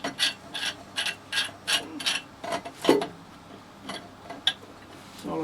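Stilson pipe wrenches tighten the fitting on a gas meter installation, producing a close run of sharp metallic clicks and ratcheting ticks in uneven bursts, fairly loud, with no speech.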